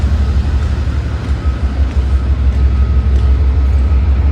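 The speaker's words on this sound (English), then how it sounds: "Now we are getting on a metro train to the BNSF Raceway." A Chicago metro train heard from on board: a loud, steady low rumble of wheels and motors with a faint high whine running through it, continuous throughout.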